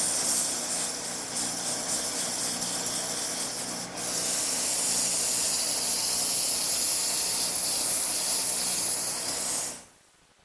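Sandpaper of varying grits pressed against a wooden table leg spinning on a lathe, making a loud continuous abrasive hiss that briefly dips, then steadies, and cuts off near the end with no talking.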